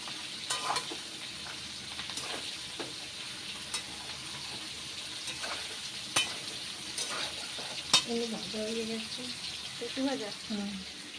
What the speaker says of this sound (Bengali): আদা জিরে কষাচ্ছে এখন লাউটা দিয়ে দিচ্ছে